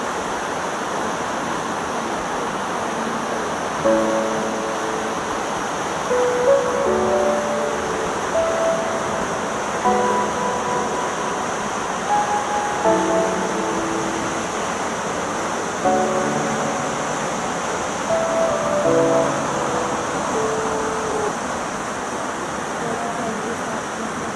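A mountain waterfall near Jalori Pass in Kullu pours with a steady broad rushing roar, constant and fairly close, while a person talks over it intermittently.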